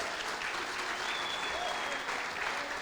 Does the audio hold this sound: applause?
yes